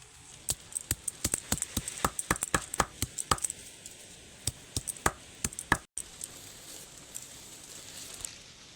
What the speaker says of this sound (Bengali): প্রথমে এই পাতাটাকে ভালোভাবে শিলনোড়ায় থেতো করে নেব